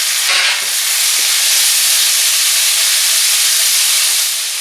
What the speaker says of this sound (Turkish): Suyunu salıp çektikten sonra domatesini ekliyoruz ve karıştırıyoruz.